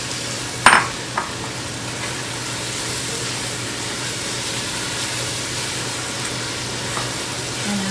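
Tomato puree frying in a pan for a palak and chicken dish, a steady close sizzle throughout after a sharp clack as it is added, with occasional faint utensil taps, no talking.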